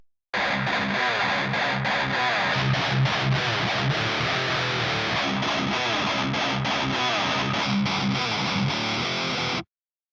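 Heavily distorted electric guitar played through a Peavey 6505/5150 preamp plugin chugs in dense, saturated riffs for about nine seconds, loud and upfront with no talk, then cuts off abruptly.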